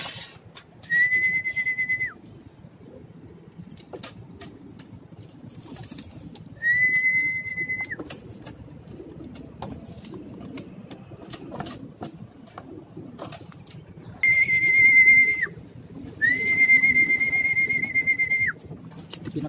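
Several racing or training pigeons at a loft in Pililla give drawn-out whistling calls in four separate bursts, with a steady low rumble of wings and outdoor background underneath; no one speaks.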